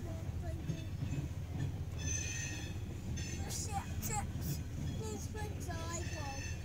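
A long CSX freight train rolls very slowly through Effingham, Illinois, a steady low rumble and clanking of cars with faint wheel squeals, as people talk nearby.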